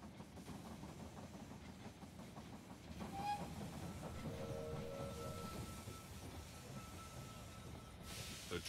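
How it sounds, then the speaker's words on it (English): Train arriving at a station in the strategy game They Are Billions, a steady rumbling clatter of rolling wagons with a short whistle blast and a faint drawn-out squeal as it slows. "The train has arrived at the station."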